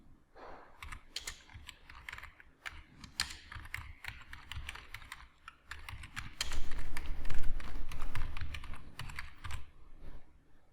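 Steady typing on a computer keyboard while entering title text into a PowerPoint slide, with rapid, close, uneven key clicks and a low background hum, and no talking.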